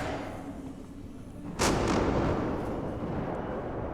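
A single heavy gunshot blasts out in the Alien Isolation video game, a sharp crack followed by a long, booming echo that hangs over the constant background din.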